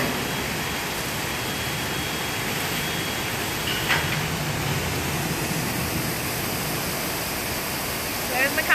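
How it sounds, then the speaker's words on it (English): Steady broadband rush of falling water, like a waterfall pouring into a pool at a SeaWorld orca habitat, continuous and fairly close, with a faint voice or two in the background. "The waterfalls also are a great enrichment."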